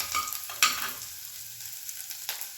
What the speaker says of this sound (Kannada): ನೋಡಿ, ಇದು ಸ್ವಲ್ಪ ಫ್ರೈ ಆಗಿದೆ